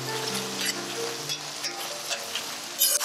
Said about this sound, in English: So we'll add this to the pot and cook it for 15 minutes, stirring every couple of minutes.